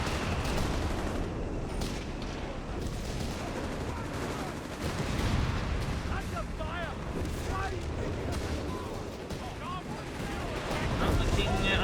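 Battle in Company of Heroes 3 with bazooka and cannon fire, dense overlapping gunfire and booms rumbling continuously under a commentator's talk.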